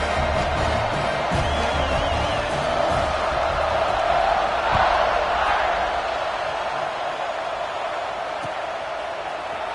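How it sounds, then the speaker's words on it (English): A stadium crowd in an American football video game roars in a steady, dense wash of cheering and shouting that swells slightly midway, loud and continuous throughout. "this crowd is feeling themselves after that last drive."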